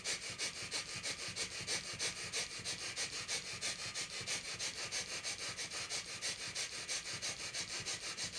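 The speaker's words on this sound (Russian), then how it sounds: "а тут дыхание быстро такое" Rapid, rhythmic breathing through the nose, about three quick sniffing breaths per second, steady and close for over eight seconds with no talking.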